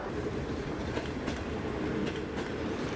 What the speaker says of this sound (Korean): 하얼빈역에서 장춘으로 향하는 기차에 오른다